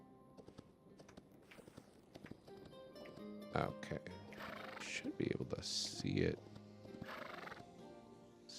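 A horse in the Hytale video game clip-clops along, then lets out loud whinnying neighs in the middle stretch, its hoof steps continuing throughout while someone talks quietly over it.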